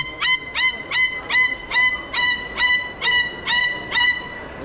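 A loud pet bird calls at a reptile expo, giving about nine harsh, harmonic squawks in an even, repeating rhythm, close and prominent over faint background hubbub.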